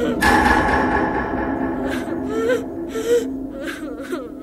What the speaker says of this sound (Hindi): रोने की आवाजें आने लगी